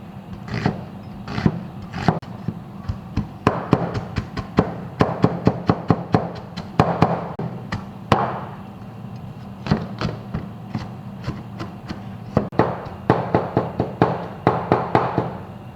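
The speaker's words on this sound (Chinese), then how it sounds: "再配个洋葱，洋葱也要切碎" Sharp, rapid knife chops on a cutting board as an onion is minced finely for a Miao-style dumpling filling, coming in close, loud bursts of quick strokes with brief pauses between runs.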